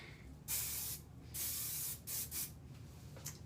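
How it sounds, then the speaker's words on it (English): A can of hairspray sprays in several short hissing bursts, close and loud, with brief pauses between them. "when you're done, you just spray it again."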